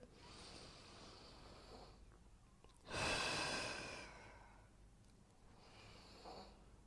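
Slow breathing during a chest and core exercise routine, soft airy inhales and exhales close to the microphone, with one louder, longer breath in the middle.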